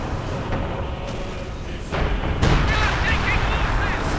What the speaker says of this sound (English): Lots of artillery going in there from Hans so far though